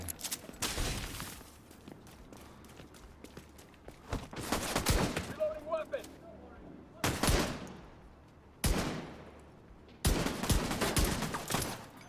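Sharp bursts of Exotic Regulus pistol fire in Division 2, loud rapid volleys separated by short gaps, with game sounds and speech in the background.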